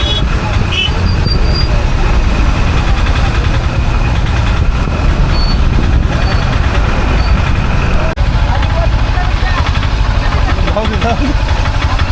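An auto rickshaw pulls away through dense road traffic during a wari pilgrimage, with loud, constant engine idling, traffic rumble and occasional horn toots, and crowd voices mixed in.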